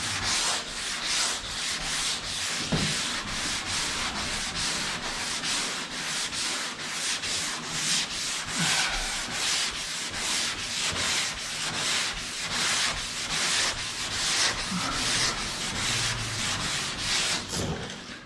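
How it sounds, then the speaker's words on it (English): Steady sanding of Bondo body filler on the rear quarter of a Suburban truck body, a continuous rhythmic scraping rasp with regular back-and-forth strokes, close and loud, with no talking. "I did more sanding in the back,"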